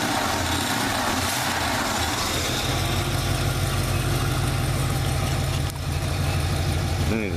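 A 1973 Oldsmobile Delta 88 Royale four-door sedan with a 455 Rocket V8 runs close by, holding a steady, heavy rumble that swells slightly as the throttle is blipped.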